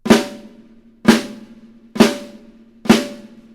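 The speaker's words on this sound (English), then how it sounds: "Flams are these." Four single drum flams struck alone at even intervals of about a second, each a sharp double-stroke crack on a snare with a ringing tail, close and loud.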